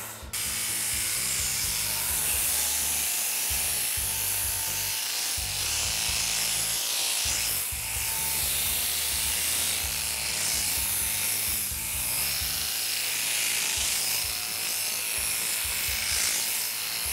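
An electric shearing handpiece crutching a ewe, working from the back of the tail across and under the hamstring, gives a steady buzzing, rattling drone with faint ratcheting texture and small dips as the cutter moves through the wool, close and continuous without speech.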